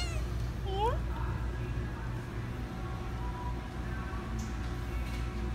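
Indoor cats meow a few times, short rising calls that come early and then fade, under a steady low household hum, with a person talking quietly nearby.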